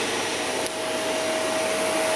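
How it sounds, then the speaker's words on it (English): A Dyson Cinetic Big Ball vacuum cleaner runs at a steady, loud, close roar with a whine above it, continuous throughout with no talking. "So I'm going to turn on this vacuum cleaner."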